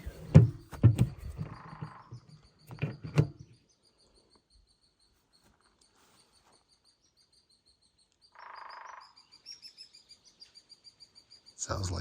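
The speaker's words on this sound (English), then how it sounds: "Sounds like a woodpecker." A woodpecker in a forest makes brief, faint bursts of drumming, then a quiet series of evenly spaced taps near the end, with some voices at the start.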